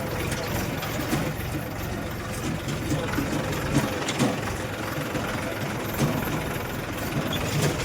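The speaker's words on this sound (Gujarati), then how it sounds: "આપણે જઈએ છીએ વાડી આટો મારવા ટ્રેક્ટર લઈ" A tractor's steady, low engine rumble idles continuously throughout, close and even, with a faint rattling texture and no change in pace.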